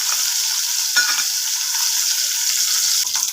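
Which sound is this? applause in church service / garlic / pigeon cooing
garlic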